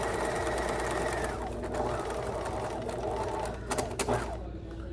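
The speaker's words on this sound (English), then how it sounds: "I'm gonna stitch the outer side of my triangle" A sewing machine runs steadily, stay stitching along the outer side of a fabric triangle after back stitching, with a continuous mechanical whir that briefly pauses near the end.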